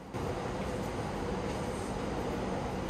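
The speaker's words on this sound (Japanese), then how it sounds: "この5番線に入線をするわけなんです。" Narita Express train pulling into platform 5 at Shinjuku station, a steady low rumble and rolling rattle heard from on board, continuous and moderately loud for the whole three seconds.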